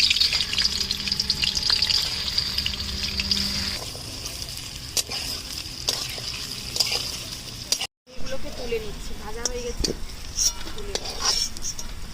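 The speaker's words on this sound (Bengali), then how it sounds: "এবার পনিরগুলো একটু তেলে ভেজে নেব হালকা করে ভাজো বেশি ভাজবো না" Paneer pieces frying lightly in white oil in a wok, a steady hiss with scraping and stirring clatter throughout, a brief silent gap near the middle.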